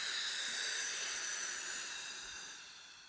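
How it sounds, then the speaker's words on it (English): A long, deep breath blown out during a guided breathing exercise, a steady airy whoosh that starts strong and slowly tapers off, heard alone with no talking. "in through your nose deep, and just blow it all out."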